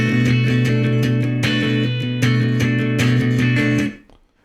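Acoustic guitar strummed with a narrow, muddy strumming movement, steady repeated strokes of one chord ringing loud and close, then cutting off and fading near the end.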